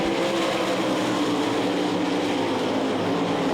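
1200 lb sprint cars race at Knoxville Raceway during the nationals, a dense, continuous engine roar with no gaps or pauses throughout.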